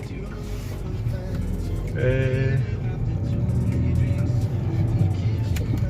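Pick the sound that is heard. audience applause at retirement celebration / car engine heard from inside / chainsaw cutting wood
car engine heard from inside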